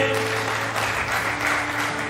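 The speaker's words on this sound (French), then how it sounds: "On applaudit, s'il vous plaît" Audience applause at a talent show elimination night, a dense steady wash of clapping filling the hall at moderate loudness, with a faint sustained tone underneath and no talk over it.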